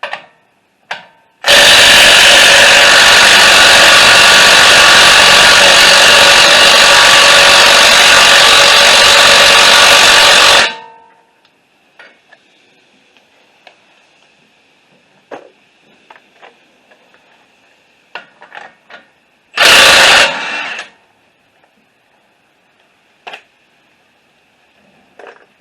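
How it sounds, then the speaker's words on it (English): A 36 mm axle nut on a 2021 Chevy Silverado being loosened with a power tool: one long, loud, steady burst of about nine seconds, then faint clinks of handling and a second short burst near the end. "loosen this axle nut"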